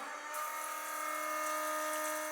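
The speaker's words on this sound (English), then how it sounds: "That sound you hear Is a 12-volt water pump." A steady electric hum with a constant pitch runs throughout from a 12-volt water pump motor at an off-grid homestead, with a faint hiss of flowing water and no voices.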